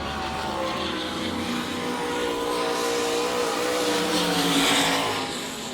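A sprint race car roars around the track at Sarver speedway, its engine a steady, loud, droning whine that rises and falls slightly as it passes at speed.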